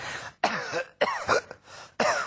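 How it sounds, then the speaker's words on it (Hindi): A person coughs painfully in four harsh, rasping bursts in quick succession, each followed by a brief pause, close and fairly loud. "दर्दनाक खांसी हो रही है"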